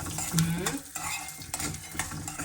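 Peanuts with turmeric are stirred in a pan for homemade masala peanuts, giving a close, busy rattle and scrape of spoon against metal over a light sizzle.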